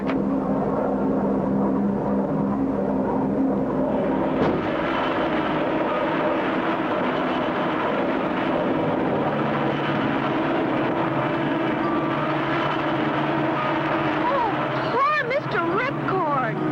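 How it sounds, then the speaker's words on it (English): A cartoon airplane flies over an air show, its engine droning steadily under a narrator's voice and swooping in a quick pass near the end. "Marcel Twitty suddenly flew upon the scene."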